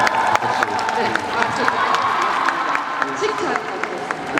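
Audience applause at a film festival open talk, a brief spatter of clapping and crowd noise mixed under ongoing voices, fairly loud but not long.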